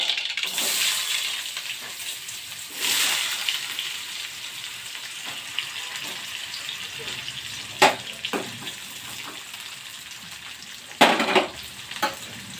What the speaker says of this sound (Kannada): ಉಳ್ಳಾಗಡ್ಡಿ ಒಗ್ಗರಣೆ ಕೊಟ್ಟನಲ್ಲ